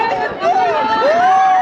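Loud, excited crowd shouting and cheering at Visayas Med hospital in Cebu as Vice President Sara Duterte arrives, raised voices overlapping continuously and close by.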